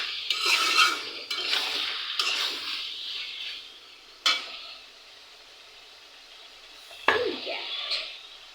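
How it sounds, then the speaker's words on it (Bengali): Chicken curry is stirred in an uncovered cooking pot with a metal spoon, producing scraping and clinking strokes close by. A soft sizzle runs underneath, and there are a couple of sharper knocks of the spoon against the pot. "আবার নেড়ে দিচ্ছি।"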